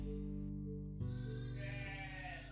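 A sheep bleats on a sheep farm: one drawn-out, wavering, nasal cry, fairly close, with a second cry following it, alone with no talk.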